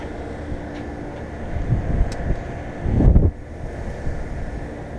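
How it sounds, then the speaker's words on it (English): Strong wind buffeting outdoors during a Porsche Cayenne 2016 glass removal job, a steady rushing roar with gusty swells, one heavier blast near the end, and no voices. "Today we had a lot of wind."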